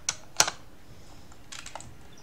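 Ctrl Shift Enter pressed on a computer keyboard during a Blender plugin test for a bus game: a few crisp key clicks in two quick clusters, close and fairly quiet, with no talking.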